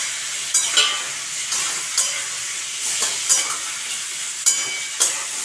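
Pointed gourd frying for curry in a pan over high flame, a steady hiss of sizzling oil with periodic scraping stirs, close and loud with no talking.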